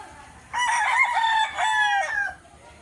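A rooster crows loudly and close by in a backyard, a long drawn-out call with a brief dip midway, over faint low background noise.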